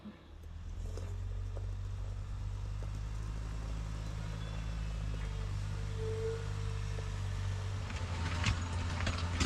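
Garden machine moving excess soil toward a hillside: a steady low engine drone running continuously at moderate level, with faint clinks and scrapes over it and no talk.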